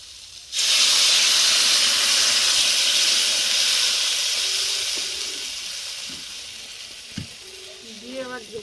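Water poured into a hot pan of papaya curry, bursting into a loud sudden hiss and sizzle that slowly fades, with a few light clinks near the end.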